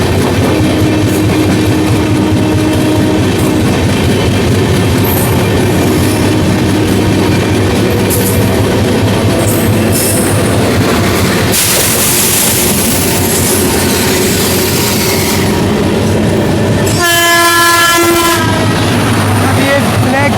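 Loud, steady rumble of an Indian Railways train on a nonstop journey, with the Tejas Express running alongside; a long, sharp train horn blast cuts in near the end over continuous rail noise.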